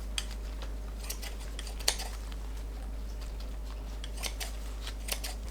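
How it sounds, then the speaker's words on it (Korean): Kitchen scissors snip dried shredded squid into short pieces, a close run of light, crisp cuts repeating irregularly over a steady low hum, with no talking. "진미채를 가위로 너무 길지 않게 잘라 넣어주세요."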